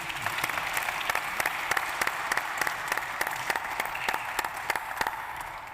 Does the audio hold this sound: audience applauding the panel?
yes